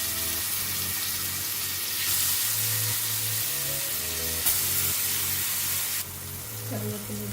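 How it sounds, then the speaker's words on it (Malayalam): Egg fries in hot oil in a pan, a steady hissing sizzle that runs close and continuous, with small clinks and shifts as it is handled. "ഓയിൽ ആഡ് ചെയ്യാം. ഇനി ഒന്ന് പൊരിച്ചെടുക്കാം."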